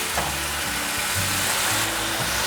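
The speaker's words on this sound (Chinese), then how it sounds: "把豆腐水分炒干，稍微拌炒一下。" Tofu being stir-fried in a pan, a steady loud sizzle with brief scraping stirs over it, close and continuous with no talk.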